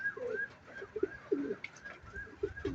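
Pigeons cooing in a repeated soft rhythmic pattern, close and moderate in level over low background noise, with no voices.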